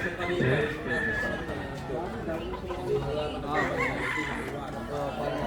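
Roosters crow and hens cluck over a busy crowd at a farm expo chicken sale, with people chattering throughout close by.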